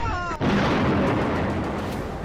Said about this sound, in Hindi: मिसाइल मोर्टार हमलों से कांप उठा पाकिस्तान।